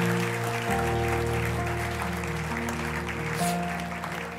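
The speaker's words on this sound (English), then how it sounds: "It's okay to clap your hands and give God the praise." A church congregation claps in praise, a steady wash of applause that runs throughout over a sustained organ or keyboard chord, fairly close and moderately loud.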